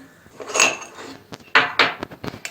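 A metal spoon scrapes and clinks against a pot of borscht in a few short, irregular bursts, close up and fairly loud.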